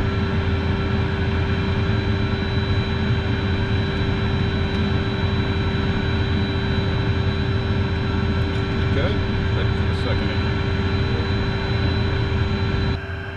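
Private jet engine running steadily with a constant loud whine and low rumble throughout, a sustained tone without clear spool-up, with a voice talking over it.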